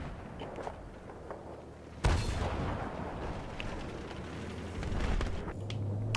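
Gunfire in Battlefield 3 multiplayer, a loud blast followed by sustained rattling shots and explosions over a steady battle din, with scattered faint sounds in the gaps.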